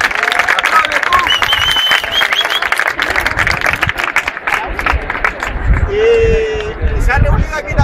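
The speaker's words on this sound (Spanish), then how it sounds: "O sea, otro aplauso para este día." At a street gathering in Madrid for the Day of Non-Violence, a crowd claps and cheers loudly outdoors, mixed with lively babble, shouts and people talking throughout.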